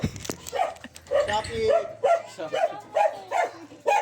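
A dog at a birthday gathering barks close and loud, about eight sharp barks in a quick, regular rhythm, with people's voices around it.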